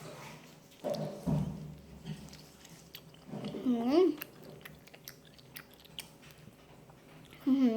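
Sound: chewing and eating fried insects

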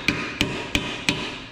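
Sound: striking a car part with a ratchet instead of a hammer

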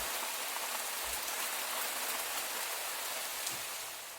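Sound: rain imitated by clapping hands

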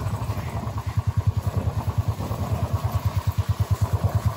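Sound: motorcycle riding on a hilly forest road

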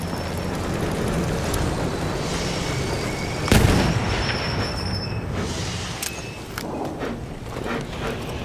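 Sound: train passing in the video game Battlefield 1

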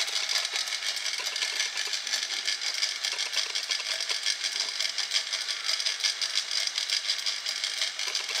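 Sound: 7.25 inch railcar chain drive running on a sprocket

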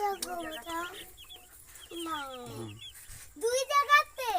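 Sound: newly bought chickens clucking

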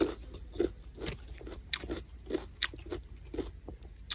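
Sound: biting and chewing a crunchy nectarine

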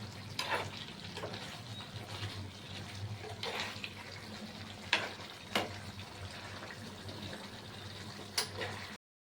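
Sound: stirring potato curry (aloo dum) in a covered pan

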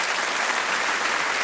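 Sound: studio audience applause

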